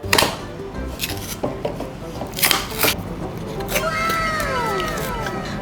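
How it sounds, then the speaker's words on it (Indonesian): A viral snack's plastic packaging is torn open by hand, giving crinkling and ripping noises with a few sharp bursts over steady background rustle. "Enggak, ininya bungkusnya disobek."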